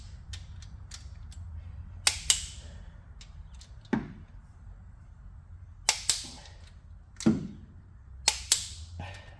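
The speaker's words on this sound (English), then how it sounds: "So I'm torque tighten all these to 26 foot-pounds." Torque wrench clicking as engine bolts are tightened to 26 foot-pounds, a series of sharp, close clicks and ratchet snaps coming singly or in quick pairs over a low mechanical hum.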